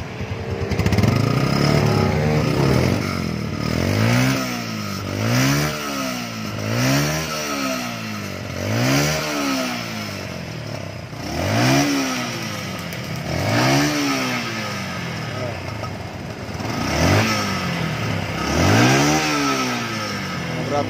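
Honda Bison motorcycle with a modified SKR racing exhaust, revved hard again and again in a workshop, each blip rising and falling in a regular loud cycle, close and dominant.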